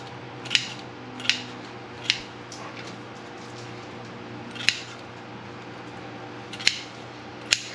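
Scissors snip through dry lemon thyme stems, six sharp, close cuts at irregular intervals over a quiet room hum.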